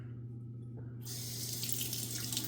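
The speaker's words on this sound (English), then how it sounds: "if you pinch it and then run some running water through there, it'll rinse it out a little easier" A tap switches on about a second in and runs steadily to rinse out a shavette razor, a close, even rush of water into a sink with no talk.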